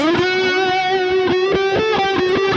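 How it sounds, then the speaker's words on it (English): A distorted high-gain electric guitar lead through a Valeton GP-200 phaser sustains bright notes with a sweeping phaser swirl, picked with a few quick rhythmic accents, loud and close. "I like these phaser lead tones"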